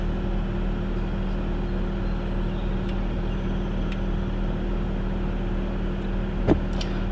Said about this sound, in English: I'm in my car now.